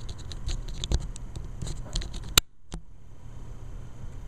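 Keys tapped on a ZAGGfolio iPad keyboard case, a run of light, close plastic clicks in an irregular patter, then one sharp louder snap and a last click before a quiet tail.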